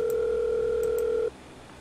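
A telephone tone in Five Nights at Wario's 3: a loud, steady electronic hum that holds for over a second and then cuts off sharply, leaving a quieter background.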